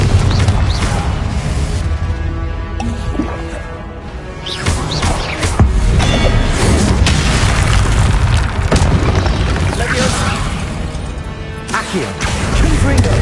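Booming spell explosions from Confringo cast in the video game Hogwarts Legacy, loud and repeated bursts layered over game music and effects, with a player talking over much of it.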